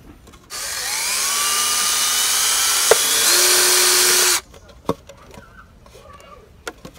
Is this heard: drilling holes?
yes